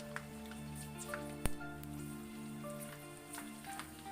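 Pork rinds fry in hot oil with a steady, even sizzle while they are stirred and pressed down, and faint clicks and scrapes from the stirring sit over the continuous crackle.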